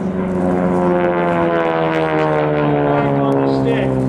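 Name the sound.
World War 2 propeller airplane flying past at airshow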